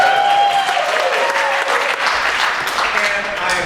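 A concert audience at an a cappella show in Sharon, Massachusetts applauds steadily to welcome a singer, a dense, even wash of clapping throughout, with a voice heard faintly over it.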